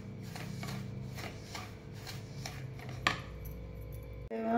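Coarse semolina (rava) for upma being roasted in a pan, a steady soft rhythmic scraping and shuffling of a spoon through the dry grains, with one sharp clink near the end.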